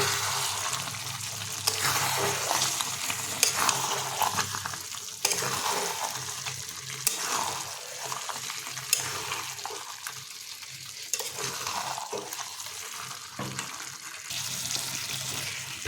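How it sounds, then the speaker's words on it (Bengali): Jackfruit curry with added yogurt being stir-fried on a low flame for echor chingri, continuous gentle sizzling with repeated spatula scrapes and stirring strokes, close by and without voices. "টক দইটা যোগ করেছি, এটাকে আমরা আরও 3 মিনিট লো ফ্লেমে এইভাবে কষিয়ে নেব।"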